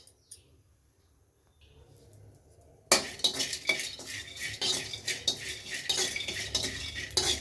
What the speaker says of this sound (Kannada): ಸೀಗಡಿನ ಹುರ್ಕೊಳ್ಳೋಣ.